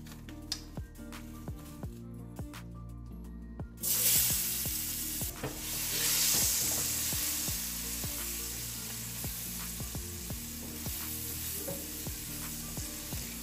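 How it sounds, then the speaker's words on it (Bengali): Chopped onion dropped into hot mustard-paste-recipe oil in a kadai erupts into a loud, sudden sizzle after regular light ticking, then settles into a steady frying hiss with faint stirring. "তো আমি কড়াইতে আমার যে তেলটা আছে এই তেলটাই আমি ব্যবহার করব। এতে আমি এখন দিয়ে দিব পেঁয়াজ কুচি।"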